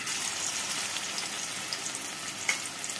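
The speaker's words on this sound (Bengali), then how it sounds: "এই যে এইভাবে করে কোপ্তার আকারে এই যে তেলের মধ্যে ছেড়ে দেব" Potato kofta balls sizzle in hot oil, a steady, close, bright crackling hiss that runs unbroken, with one small pop or clink near the end.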